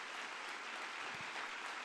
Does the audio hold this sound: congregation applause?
yes